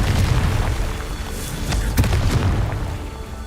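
A Confringo fire spell from Hogwarts Legacy bursts in a loud, rumbling explosion, with crackling pops and sharp blasts layered over a deep, sustained boom.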